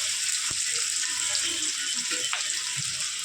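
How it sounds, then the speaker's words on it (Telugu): Mustard seeds and tempering seeds sizzle in hot oil for an Andhra-style potato fry, a steady broadband crackle with a few sharp pops and faint clinks throughout. "ఆయిల్ హీట్ అయిన తర్వాత తాలింపు గింజలు, ఆవాలు,"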